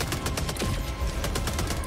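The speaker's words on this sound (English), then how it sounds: "Let's get those mortars going" A sentry in Helldivers 2 fires a rapid, steady string of loud bursts during a mission in the video game, each shot evenly spaced and crisp.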